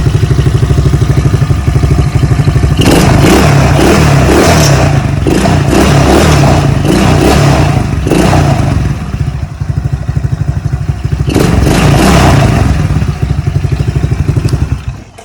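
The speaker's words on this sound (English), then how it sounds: "So in theory, this thing should fire up right now." A Tao Tao 110 quad's small engine fires up after a carburetor replacement, running loud and close with a steady idle broken by several revving bursts that rise and fall, then settles back to idle before one last rev.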